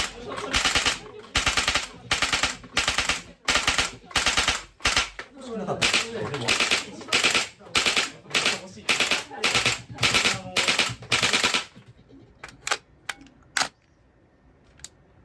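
A Marushin gas blowback airsoft gun fires rapid, loud, clacking shots in quick bursts, each with the snap of the slide cycling and a shell ejecting, then a few sparse single shots to finish.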